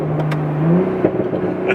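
A Toyota A90 Supra engine revs up, its pitch climbing steadily then holding near the top, loud and close, with a brief blip partway through.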